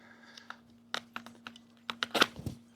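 An Architect Knives AK8 knife slicing through a length of fire hose, a series of quiet, close, irregular snips and crunching taps that bunch into a denser tearing burst near the end, over a faint steady hum.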